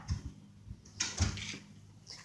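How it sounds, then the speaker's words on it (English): A door is pushed shut, a couple of soft thuds and a clunk with some rattling, close by in a quiet room with no talk. "Boy, shut the door!"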